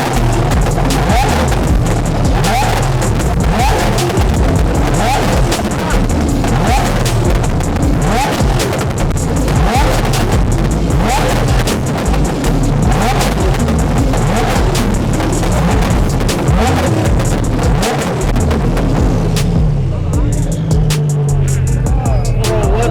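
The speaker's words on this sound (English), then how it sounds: "GTR spitting flames" A Nissan GT-R at a car meet spitting flames, its engine roaring loudly and steadily for about twenty seconds with sharp pops and crackles, amid crowd noise, before fading abruptly.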